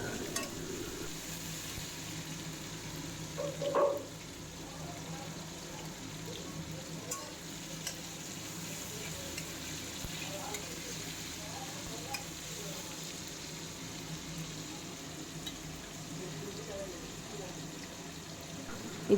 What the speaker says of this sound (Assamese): এতিয়া এনেকৈ মাংসখিনি অকণমান টাইম ভাজি ল'ব